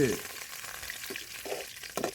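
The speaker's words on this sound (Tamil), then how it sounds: "கருவேப்பிலை போட்டாச்சு பொரிக்கிறது" Steady crackling sizzle of curry leaves frying in hot oil for chicken gravy, with a few sharper pops and spits near the end.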